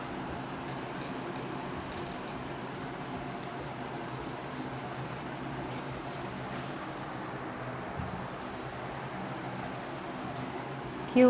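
Writing being rubbed off a board during an online physics class, a steady, continuous scrubbing rasp that runs evenly throughout at close range with no talking.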